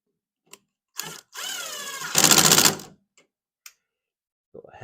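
A screw is driven in with a powered tool while a caster wheel is fitted to a Razor Crazy Cart, giving two short whirring bursts with sparse clicks and clatter before and after.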